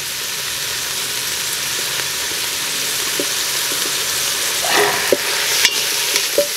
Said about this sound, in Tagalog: kailangan po half cook lang muna yung paggisa sa kangkong